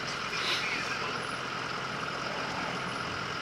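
A truck rolls past on a narrow Kentucky road, a steady broadband engine and road rumble holding level throughout, close and fairly loud with no voices.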